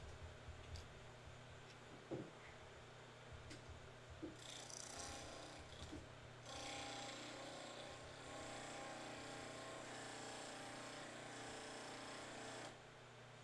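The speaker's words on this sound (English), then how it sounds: "I don't bother shutting the grinder off because I'm constantly going back to it" A bench grinder runs in a woodturning shop while a narrow parting tool is sharpened, with a low steady hum and scattered clicks before a louder, even grinding rasp takes over for several seconds.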